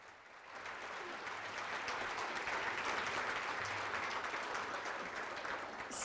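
A large audience claps steadily and densely at a university alumni grand award ceremony in a hotel conference hall, a sustained round of applause from start to finish with no speech over it.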